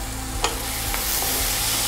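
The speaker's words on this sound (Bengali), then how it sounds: "যা আলু সব ছিটকে ছিটকে পড়ছে" Potato curry fries hard in mustard oil, a loud close sizzle with spoon scrapes and a few sharp pops of potatoes spattering out of the pan.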